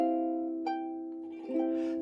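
Ukulele playing part of "I'll Fly Away" with a few quick plucked notes ringing out, followed by a brisk strum, close and clear with no voices.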